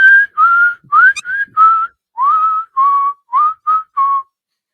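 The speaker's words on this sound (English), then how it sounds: "he's whistling as he's walking down the sidewalk." A man whistles a simple tune of ten clear, sliding notes, loud and close, with short gaps between them and no talking, while walking down a sidewalk.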